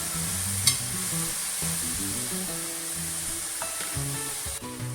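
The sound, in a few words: stirring seasoning in a pot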